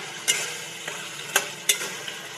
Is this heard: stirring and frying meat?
yes